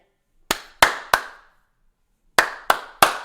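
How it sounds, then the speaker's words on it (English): Lone hand claps in two groups of three, crisp and evenly spaced with silence between, meant as House Democrats clapping. "Clapping with a purpose"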